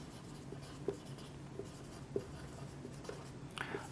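Chalk or marker taps and scratches sound faintly on a board while lecture notes on estimation and costing are written, with a handful of soft strokes spaced over a quiet room hum.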